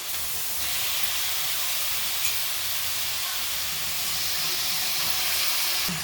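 Onion and tomato frying in oil in a pan for a Mangalorean home-style dish, a constant loud, even sizzling hiss with no breaks.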